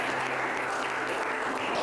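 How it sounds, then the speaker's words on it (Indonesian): A room at a teachers' competition applauds for a participant, a short burst of steady, close clapping from a group, loud and continuous. "Luar biasa, tepuk tangan untuk Dewi ya."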